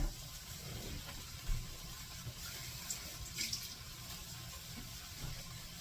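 Steady water running from a tap, a continuous broadband hiss with a few small splashes and knocks, fairly close, with no talking.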